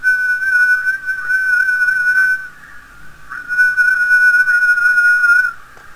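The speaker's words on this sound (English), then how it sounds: "So there's me whistling." A single person whistles a steady, sustained tone near the microphone, holding two long phrases separated by a short break, with no talking around it.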